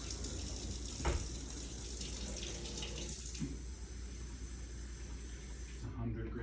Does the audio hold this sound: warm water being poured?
yes